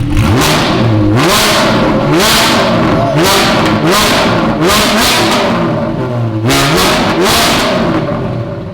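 A Porsche GT4 with a Dundon megaphone cracked-pretzel exhaust revs hard and repeatedly, each loud, close blip rising and falling in a steady rhythm of throttle stabs.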